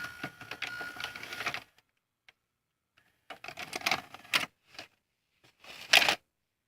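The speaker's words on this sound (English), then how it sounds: "Now I'll eject it." A Hitachi VT-FX695A VCR ejects a tape with a run of close mechanical clicks and whirring motor noise, a pause, then more clattering clunks and a final louder burst as the cassette comes out.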